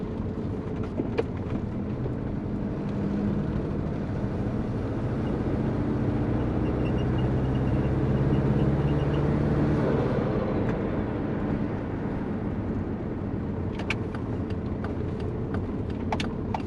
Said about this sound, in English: I think the wastegate is leaking.